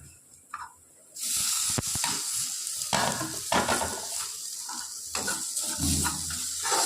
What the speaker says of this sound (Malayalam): മസാലേൻ്റെ കുത്തല മാറുന്ന വരെ നമുക്ക് നന്നായിട്ട് ഒന്ന് വരട്ടി കൊടുക്കാം